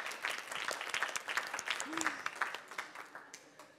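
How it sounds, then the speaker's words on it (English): Audience applause at a gathering about climate grief, a scattered round of clapping with distinct individual claps, moderately loud and tapering off toward the end. "All right, applause."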